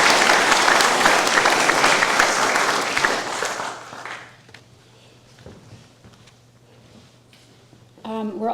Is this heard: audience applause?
yes